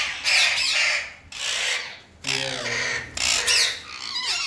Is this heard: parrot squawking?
yes